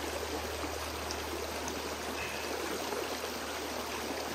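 Steady rushing of water flowing through a gold prospecting sluice box, a continuous broadband wash at constant level with no voices.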